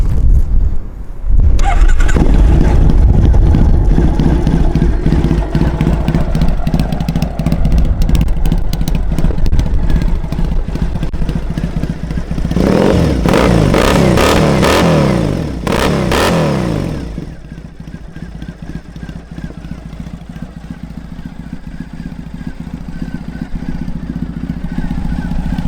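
A 2010 Triumph Bonneville SE motorcycle engine cranks and catches after a moment, then idles with a loud, steady rumble. Partway through it revs hard several times before settling back to a lower idle.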